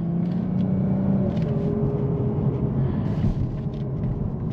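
A 2022 Lexus IS 350 F Sport with a 3.5L V6 driving in sport mode, a steady low engine and road rumble from inside the cabin with faint shifts in engine tone.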